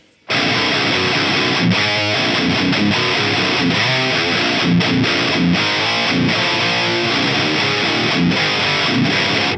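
Heavily distorted high-gain electric guitar plays continuously, loud and dense, with chugging riffs through a Jensen neodymium guitar speaker.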